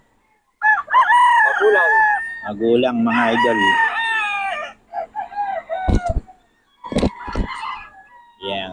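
Gamecocks brought for sale crow loudly at close range, several long wavering cock-a-doodle calls in succession, followed by sharp knocks and a brief spoken phrase.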